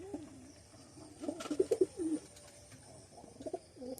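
Two young pigeons at a home loft coo in a short burst of low, throaty calls near the middle, with quieter coos following amid faint background noise.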